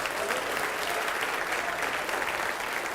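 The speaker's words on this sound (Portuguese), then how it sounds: "Vamos aplaudir mais ao nome de Jesus." Steady, dense applause from a church congregation fills the space at moderate loudness, continuous with no breaks and no voices standing out.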